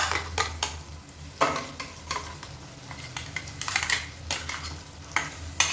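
Tomato masala sautéing in oil in a pan for vegetable biryani: a close sizzle with repeated scraping and clinking strokes of a spoon stirring against metal, no voices.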